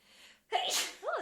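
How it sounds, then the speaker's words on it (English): One person sneezes once, a short, close sneeze with a quick breath in just before it, heard during a podcast chat. "I always sneeze"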